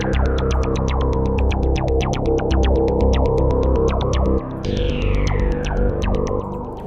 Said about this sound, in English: let's take out the delay of from both, and let's put the flange in for both.